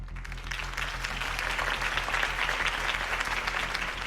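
An audience applauds after a campaign speech in a steady, dense wash of clapping hands that holds at an even level throughout, close and continuous with no voices above it.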